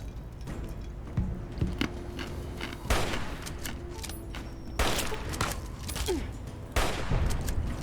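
Gunfire at a turret in the Fallout video game: repeated bursts of rapid shots with sharp cracks and booms at irregular intervals over steady background noise.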